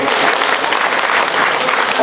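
Crowd applause at a BJP leader and worker joining program at a party office in Jajpur and Bhadrak, a dense, loud, continuous clapping that fills the whole moment.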